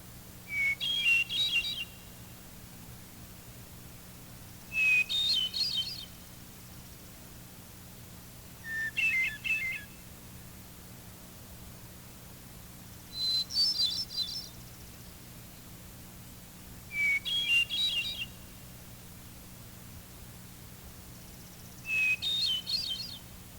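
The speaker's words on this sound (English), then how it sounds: "Listen again to the hermit thrush's song, with its single, low introductory note and higher tremolo-like phrases" Hermit thrush song: six separate phrases spaced a few seconds apart, each opening on a single clear low whistle and rising into higher, shimmering tremolo notes, moderately near over a steady low hum.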